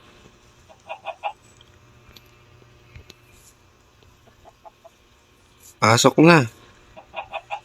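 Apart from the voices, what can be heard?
chicken clucking in a video game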